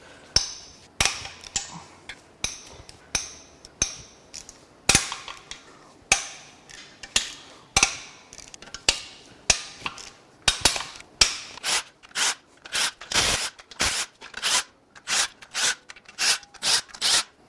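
Oil pan bolts on a Nissan VC-Turbo engine that failed at 98k are cracked loose with a hand tool, giving a long series of sharp metallic clicks and snaps, sparse at first then faster and more regular toward the end.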